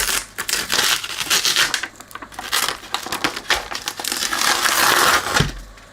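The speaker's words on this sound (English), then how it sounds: "Start by peeling this off." Adhesive label being peeled off a broken plastic amplifier lid, crackly tearing and crinkling bursts that come and go in irregular stretches, close up with no talking.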